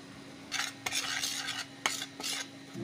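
Spice paste of chilli, salt, coriander powder, garam masala and ginger-garlic paste being mixed with oil in a bowl, close wet scraping and squelching strokes in short bursts with a couple of sharp spoon knocks.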